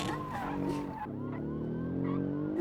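A small sports car in a video game sliding across the road, a tyre screech and engine whine layered over a wailing police siren, loud and continuous, with a brief drop partway through.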